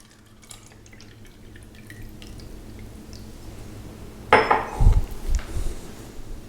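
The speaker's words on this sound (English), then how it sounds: "we'll add enough of our salt water to the last 3 cups to cover about 3/4 of each nail" Salt water is poured into cups holding nails, starting with faint drips and light clinks, then a brief splashing burst of liquid near the end.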